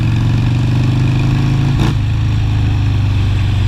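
Harley-Davidson motorcycle engine runs loud and close with a steady low throb, a brief surge partway through as the throttle is rolled on slightly, then settling back, no talking.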